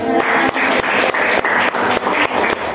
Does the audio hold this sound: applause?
yes